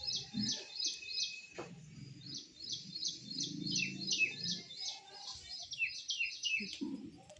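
Birds chirp in quick repeated bursts among the trees, several calls overlapping, with soft low rustling and distant murmurs underneath.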